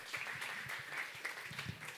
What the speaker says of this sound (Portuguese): Salve de palmas para a Lívia também